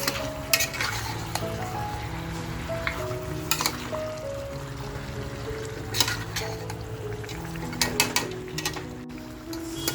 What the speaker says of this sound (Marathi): गॅसची फ्लेम आपल्याला फुल ठेवून आहे ना हे व्यवस्थित मटण आपल्याला सतत फ्राय करत राहायचं आहे